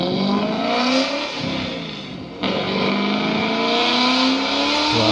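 A German car's engine revs hard, its pitch climbing, dipping briefly midway, then rising again, loud and close with no talking.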